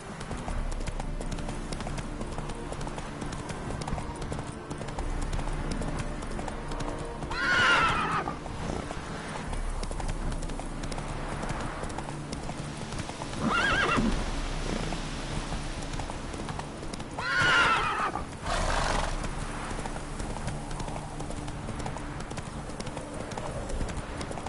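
Roach the horse in a video game trotting with steady clip-clop hooves, breaking into two loud neighs partway through, with faint talk in the background.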